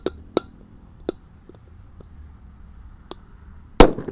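Firecrackers go off inside a cooking pot: several sharp, separate cracks and pops over a few seconds, then a much louder, harsher blast near the end.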